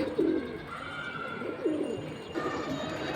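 Pigeons at a pigeon market give soft throaty coos, two clear rolling calls close by with fainter cooing behind, over low background bustle.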